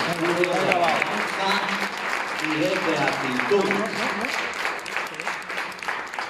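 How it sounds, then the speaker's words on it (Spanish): A church congregation claps and cheers in thanks to God, with warm, sustained applause while a voice speaks over it. "¿Qué os parece si le damos bien fuerte un aplauso a nuestro Dios?"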